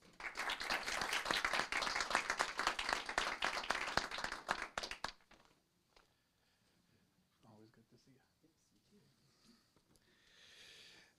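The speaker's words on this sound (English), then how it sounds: "if you could please join me in a big round of applause as we welcome Fire Chief Jesse Park to the microphone" Round of applause at a city council meeting welcoming the fire chief, dense clapping from a crowd for about five seconds before it stops abruptly, followed by quiet room noise and a few soft voices.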